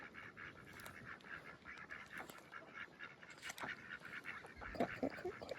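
Ducks on the water in freezing weather honk and quack in repeated nasal calls, a flock fairly near and moderately loud, overlapping calls continuing throughout with no talking.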